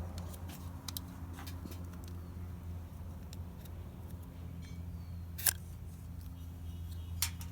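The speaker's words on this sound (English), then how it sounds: "And now I'll cut my scion wood here." Shears cut mango scion wood for grafting, producing one sharp, close snip and a second fainter one over a steady outdoor background hum.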